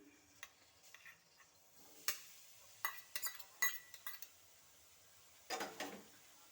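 Grated coconut stirred in a wok for a patishapta pitha filling, with faint, scattered scrapes and light taps of a spatula against the pan. Quiet, irregular and up close, with a small cluster of clatters near the end.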